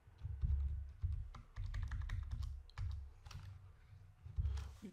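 Bursts of clattery keystrokes on a computer keyboard while editing in FUZE⁴ on a Nintendo Switch, coming in uneven rapid clusters with short pauses, close and moderately loud.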